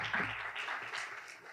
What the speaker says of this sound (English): All right, big applause for Adine.